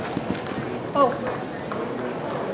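Hooves clip-clopping in a Hackney pony class at the Royal Agricultural Winter Fair horse show, a quick busy patter of running hooves over arena crowd noise, with a brief voice exclaiming.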